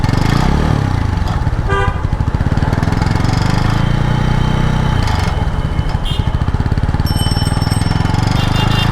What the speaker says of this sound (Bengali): বাইকে কি জানি একটা সাউন্ড হইতেছে। আর সাউন্ড আছে সাইলেন্সার বাইক থেকে।